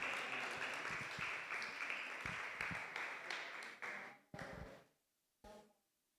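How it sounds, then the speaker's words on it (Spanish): An audience at a church service applauds in a fairly close, sustained wash of clapping that thins out and breaks off into a few last scattered claps, then stops. "Vamos a darles un aplauso, por favor."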